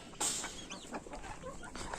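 Chickens cluck softly nearby, a few short calls scattered over quiet background noise.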